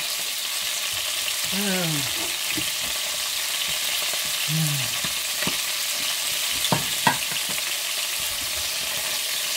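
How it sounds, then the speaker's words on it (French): Chicken pieces browning in a frying pan for a Provençal chicken dish, giving a steady broad sizzle throughout with a few utensil scrapes and clicks; faint voices murmur briefly under the frying. "on va essayer de rissoler ça tranquille"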